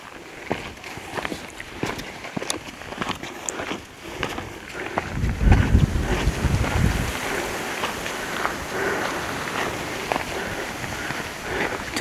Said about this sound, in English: So it has become windy as well